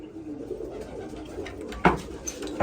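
Pigeons coo softly at close range, with low murmuring coos and a few sharper bursts of sound from nearby birds.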